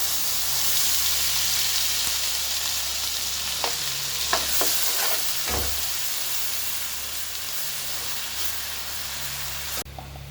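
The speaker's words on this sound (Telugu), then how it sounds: "ఇప్పుడు మనం మిక్సీ పట్టుకున్న మసాలా వేస్తాం." Ground masala with garam masala and bay leaf sizzles and hisses in hot oil, a steady close frying sound with a few clinks of stirring scattered through.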